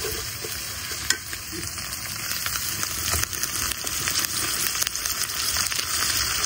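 Salted hilsa fish frying with onion, garlic and ginger in a hot pan, giving a continuous loud sizzle with scattered light scrapes and taps of a stirring spoon throughout.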